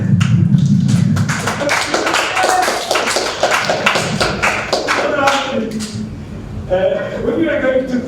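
An audience at a lecture on early Christian iconography claps to welcome a guest, a steady round of applause that fades as voices start talking over it.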